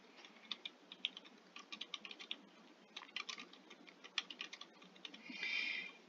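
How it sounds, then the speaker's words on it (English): A book title being typed on a computer keyboard, a quick irregular patter of close key clicks in short bursts, quiet and alone with no talking. "So I'm going to click in here. And the book I'm going to catalog today is called Law Librarianship in the Digital Age."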